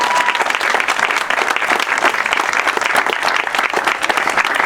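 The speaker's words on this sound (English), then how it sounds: "So let's give them a round of applause." Audience applause at the dedication of a school tennis complex, honoring the tennis team: steady, dense clapping from a sizable crowd, close and loud, sustained without a break.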